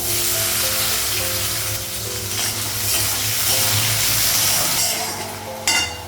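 Onion frying in hot oil with spices, green chilli and five-spice seeds in a home kitchen, a steady close sizzle with crackling bursts and a clatter near the end, no talking.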